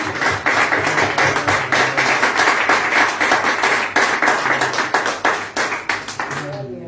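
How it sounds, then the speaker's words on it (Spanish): A church congregation claps loudly in a fast, dense rhythm for several seconds, then thins toward the end, with voices faintly mixed underneath. "Fuerte el aplauso al Señor."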